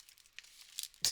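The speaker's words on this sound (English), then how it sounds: "I'm just using regular scissors to cut fabric." Quiet, close crisp snipping and rustling of fabric cut with regular scissors, a few soft cuts followed by a sharper crinkle at the end.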